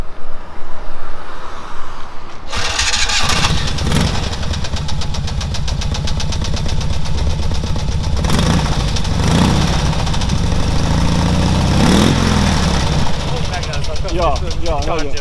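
A Polski Fiat small car engine cranks and catches, then settles into a rough, uneven idle with a knocking, clattering beat; people talk over it.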